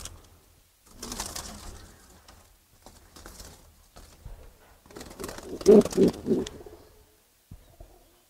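Pigeons in a small loft give soft, intermittent coos, with one louder burst of cooing near the close, among light shuffling and rustling sounds in a quiet space.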